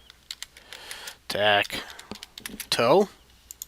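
Keys tapped on a computer keyboard while typing into a Google Docs document, quick clicks scattered through the clip, with a voice speaking over them.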